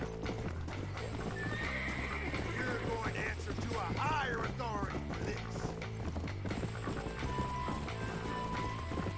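A horse in the Red Dead Redemption game gallops with steady clip-clop hoofbeats, neighing and whinnying partway through, close and moderately loud under a faint musical backdrop.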